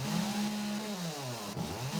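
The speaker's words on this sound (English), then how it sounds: "Oh, the chainsaw. Too much fun." A chainsaw runs in the video game 7 Days to Die, its loud buzzing engine rising and falling in pitch as it revs continuously and up close.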